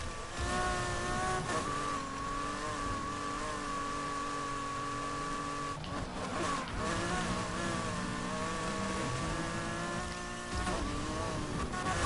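SUV engine in Need for Speed Heat driving off-road, a steady mid-pitched drone with shifting harmonics and brief dips as revs change, loud and continuous with no talk.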